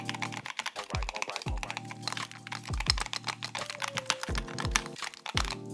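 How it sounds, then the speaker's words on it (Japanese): Close-miked typing on a Keychron Q0 Max, an aluminium-bodied mechanical numpad with double-gasket mounting, giving steady clusters of sharp, solid keystrokes and occasional louder thocks throughout, with no voices. "ちょっと打鍵音について伝わるかわかんないんですけど、ちょっとマイクを近づけて音を聞いてみようと思います"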